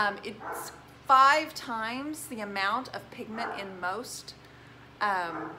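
A pet dog indoors barks in a few loud, sharp bursts at passers-by outside, breaking through as a person talks steadily during a furniture-painting project.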